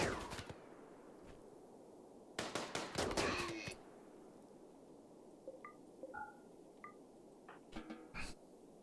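Bursts of rapid gunfire from a Rimworld colony battle, a couple of dense rattling volleys with short pauses, plus a few faint tonal game blips in between.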